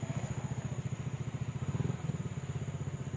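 Raider 150 Fi motorcycle with an open Jack speed exhaust pipe on stock mounting, idling close by with a fast, steady, throbbing putter and a slight blip of revs midway.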